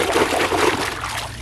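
Steady close-up splashing and trickling water, continuous and fairly loud, as a toy is rinsed by hand.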